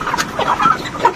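Broiler chickens on a poultry farm, cooled by fans, give several short, close clucks and murmurs in quick irregular succession.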